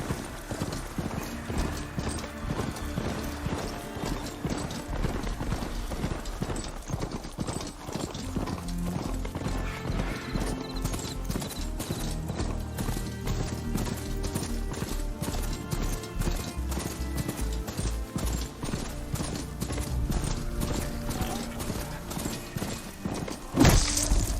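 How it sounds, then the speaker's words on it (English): Steady mechanical clip-clop footfalls of an overridden Bristleback machine being ridden in Horizon Forbidden West, a continuous rhythmic trotting with clanking and grinding under it, near and loud. "I can override bristlebacks now. And ride them."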